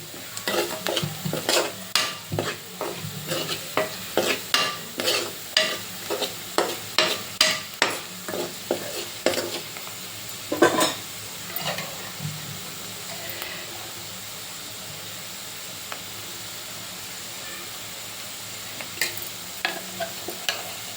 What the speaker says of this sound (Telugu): అవి వేగిపోయినాయండి ఉల్లిపాయలు